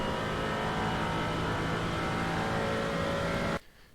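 A GT4 race car's engine roars steadily under acceleration in iRacing at Road America, a loud, sustained drone that cuts off abruptly near the end.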